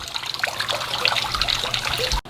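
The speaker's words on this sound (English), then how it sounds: "feel this cold spring water that's still naturally coming from the ground today" Cold natural spring water flows from the ground in the Ozarks at Eureka Springs, a close, steady bubbling trickle that continues throughout before cutting off abruptly.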